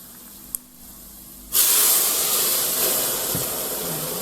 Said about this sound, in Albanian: Do hedh 2 gota me ujë.